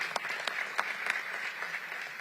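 Audience applause at a forum on the 2022 midterm elections and the state of Black America: faint, thin clapping from a modest crowd, a few sharper individual claps standing out from a soft, brief patter.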